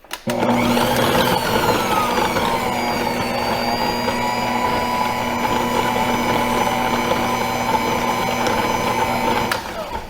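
Stand mixer fitted with cookie paddles beating royal icing, a steady loud motor whir with a rhythmic churning hum that runs unbroken for about ten seconds, no voices.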